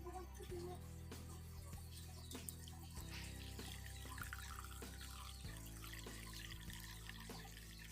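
Boiled betel leaf water being poured and strained into a container, giving a continuous trickling, splashing flow with some background hum and faint distant sounds throughout.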